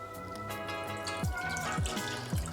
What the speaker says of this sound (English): So we're gonna discard the water